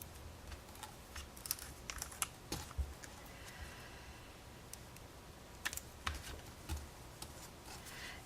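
Paper being crumpled by hand while making a layered gratitude card, giving close, crackly bursts and sharp rustles that come in uneven clusters over a quiet background, with no talking.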